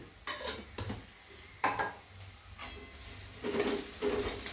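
A metal spoon scrapes and clinks against a pan while tomato curry is stirred and fried, intermittent knocks and scraping over a faint sizzle, with no talking.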